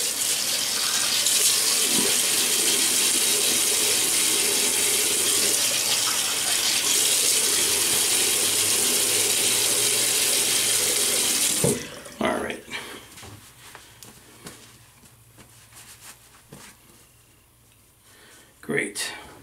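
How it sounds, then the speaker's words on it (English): Tap water runs steadily into a sink for about twelve seconds while wetting a face before a shave, then stops, leaving a few drips and small splashes, close and loud. "so let me wet the face."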